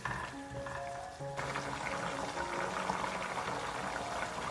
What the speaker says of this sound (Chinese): 小大火给它煮开哦